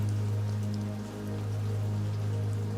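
Rain falls steadily in a city, a soft continuous patter with a low steady hum underneath and no voices.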